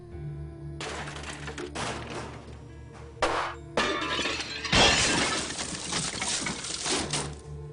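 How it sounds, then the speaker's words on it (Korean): Glass and teacups shatter and crash in a horror-story sound effect, with a series of loud breaking bursts and tinkling shards that builds to a heavy smash. "쨍그랑하는 유리나 찻잔이 깨지는 소리가 났다"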